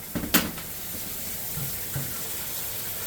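A Kenmore Series 90 washing machine filling with water, a steady hissing rush of inflow running throughout, with a couple of brief clunks near the start and soft knocks later.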